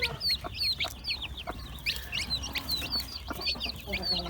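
Hens and dwarf chicks in a Turkish poultry yard give repeated short clucks and chirps throughout, with a rhythmic chorus of birds close by and a busy low background.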